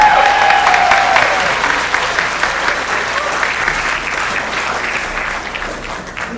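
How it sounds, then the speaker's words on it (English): Audience applause at an arangetram dance recital in Charlotte, North Carolina, a dense, even round of clapping from a seated crowd that carries on steadily throughout, slowly easing in loudness. "We get one more round of applause for all of our outstanding"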